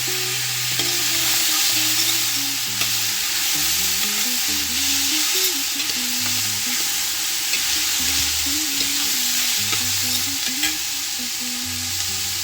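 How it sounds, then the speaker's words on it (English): Garlic goes into onions sizzling in a pot for vegetable soup over medium heat, a steady loud frying hiss with stirring scrapes throughout and a low melodic tone running underneath. "There's aroma coming from my onions, guys. Okay guys, I'm adding my garlic."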